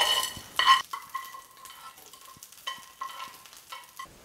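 Tempering is stirred into peanut chutney, with bursts of sizzling and clinking spoon scrapes separated by quieter gaps, close and moderately loud.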